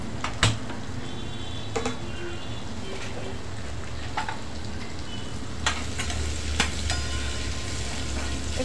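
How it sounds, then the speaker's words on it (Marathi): Chopped raw mango pieces sauté in a pan with a constant low sizzle, punctuated by several sharp spatula knocks and scrapes against the pan. "आणि आता कैरी कापलेली टाकायची आहे त्यात आणि परतून घ्यायचं आहे।"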